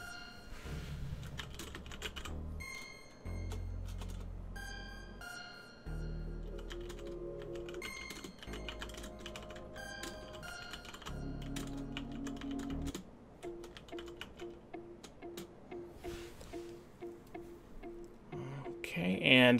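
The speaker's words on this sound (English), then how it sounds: "I'm going to start typing a similar sentence to what I did before" Typing on a computer keyboard while composing a sentence in Microsoft Word, a steady run of close, crisp key clicks over about twenty seconds with brief pauses and a soft background hum.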